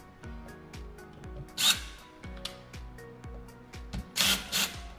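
Screws being driven into door lock hardware with a powered driver give a series of short rising whirs in a steady rhythm, broken by a couple of sharper scraping bursts, close and moderately loud.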